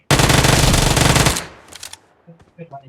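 Rapid automatic gunfire in the video game PUBG Mobile, a dense, loud burst of shots lasting over a second, then a few scattered clicks and faint sounds.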